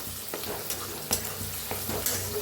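Onions, chillies, tomatoes and peanuts with turmeric sizzle steadily in hot oil while a spoon scrapes and stirs through the pan in a few distinct strokes, close and moderately quiet.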